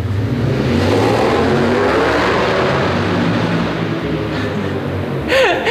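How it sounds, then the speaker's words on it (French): A motorcycle roars past in a continuous engine surge that swells and then fades, loud and near, with a faint squeal at the end. "la moto est passée."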